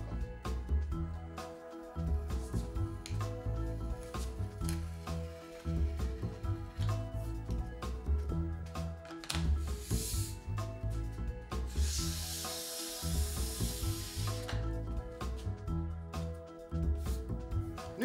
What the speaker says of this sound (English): The scratcher has a little corner. You put it on the steel side. And then you remove the steel side wax.